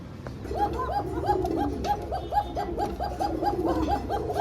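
Fancy pigeons at a market sale coo in a steady repeating rhythm, several birds close by and fairly loud over a low murmur of background noise.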